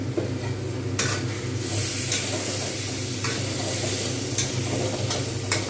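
Potatoes and spices fry in a pan over low flame, giving a steady sizzle with a low rumbling hum and occasional brief scraping bursts from stirring, with no voices.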